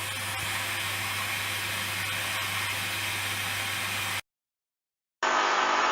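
A Hoover washing machine on its final spin, washing a coloureds bedding load at 40°C, gives a loud, steady whirring hiss that cuts out abruptly to silence before resuming at high pitch.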